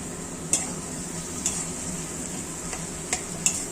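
Tomato and ginger paste sizzling and frying in a pan, a steady close hiss with a few sharp clinks of a spoon stirring against the pan, no talking.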